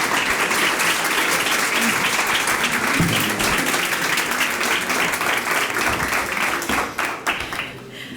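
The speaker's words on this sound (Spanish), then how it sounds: "pues un fuerte aplauso para Sonia" Sustained applause from an audience at an informational breakfast held for International Childhood Cancer Day, with steady dense clapping for several seconds before it thins out and fades toward the end.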